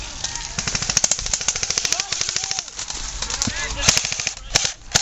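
Airsoft guns fire in rapid bursts at an outdoor skirmish at Combat City, with dense, sharp snapping shots and a few louder near cracks, while players call out faintly in the background.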